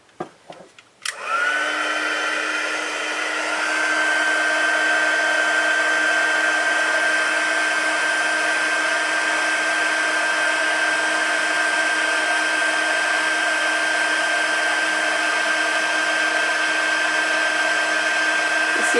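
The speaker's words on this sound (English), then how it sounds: "I'm going to dust my tag, and then I'm going to heat emboss this real quick" Heat gun blowing on embossing powder dusted over a paper tag: a loud, steady whooshing whine that starts abruptly after a second of quiet handling noise and holds unbroken to the end.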